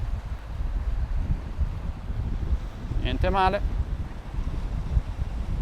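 Wind buffets a drone flying along the coast, a constant low rumbling roar, with someone speaking briefly over it partway through.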